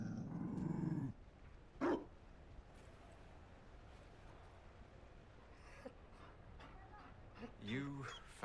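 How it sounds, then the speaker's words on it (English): Mabari war dog in the Dragon Age Inquisition video game, a low growl up front followed by a sharp bark, then a few yips and whines near the end, with game characters talking. "You found a dog."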